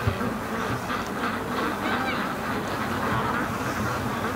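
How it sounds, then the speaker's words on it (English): Free-range ducks on a frozen lake give a dense, overlapping stream of honking quacks, steady and fairly close throughout. "Oh, silly ducks."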